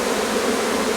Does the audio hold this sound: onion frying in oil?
no